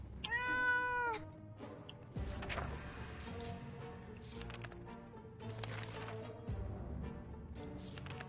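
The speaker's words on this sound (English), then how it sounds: "It's a cat." A cat meows in the post-apocalyptic survival game 60 Seconds! Reatomized, one clear drawn-out meow near the start, followed by soft game clatter and shuffling in the background.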